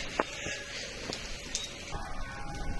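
Rain falls outdoors on a country road in St. Catherine, Jamaica. It makes a soft, steady patter with a few sharper drops against a faint background.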